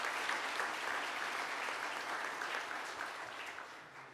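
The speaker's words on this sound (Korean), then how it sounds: "웬디 셰크먼 박사님께 다시 한번 큰 박수" Applause from the audience at the 2024 Samsung Ho-Am Prize award ceremony, a steady wash of clapping heard from a distance at moderate level, gradually tapering toward the end.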